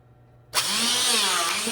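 A power tool punches a bolt hole through a part on a 1940 Chevrolet being converted to four-wheel drive; after half a second of quiet it starts abruptly and runs as a loud, steady, close whine with no talk.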